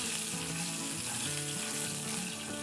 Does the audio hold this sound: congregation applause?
no